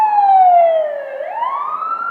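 An ambulance siren outside on a Saturday night at the Grove sweeps down and then climbs again in one loud, clear wail as it passes, with no talk over it.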